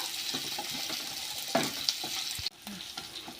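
Onions frying in a pan for a cluster-bean stir-fry, a steady sizzle with scraping stirs and a few sharp clicks of the spatula, close and continuous with no voices.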